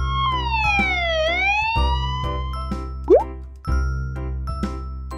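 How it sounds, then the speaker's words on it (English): Cartoon police car siren from the Robocar Poli children's show, a loud swooping wail that falls and rises, followed by plopping and popping effects over a steady hum. "Poli is a police car."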